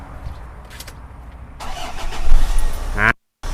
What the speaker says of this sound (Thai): เดี๋ยวผมสตาร์ทฟังเสียงเครื่องยนต์นะฮะ